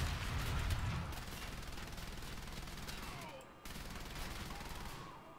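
Heavy, rapid gunfire from an overpowered weapon in the shooter game Wolfenstein: The Old Blood, a loud sustained barrage of shots that cuts out briefly before resuming.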